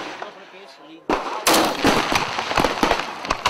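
Fireworks for Swiss National Day: a burst of crackling, popping explosions in rapid irregular succession, loud and moderately near, with a quieter murmur before the barrage starts.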